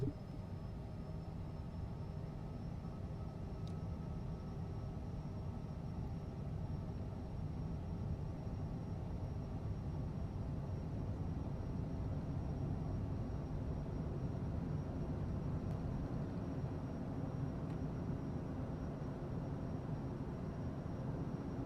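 Cessna light aircraft engine droning steadily at takeoff power in a flight simulator game, a continuous, even roar with no voices heard.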